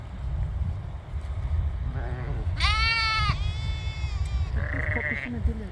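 A lamb bleats several times close by, loud quavering cries with others answering among a flock of sheep, over steady outdoor background noise as it searches for its mother.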